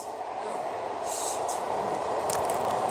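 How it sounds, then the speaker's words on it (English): A train pulling into a station with a steady low rumble and rolling hum, faint squeals and clanks rising above it, heard from the platform with a brief word spoken nearby. "bet that's my train."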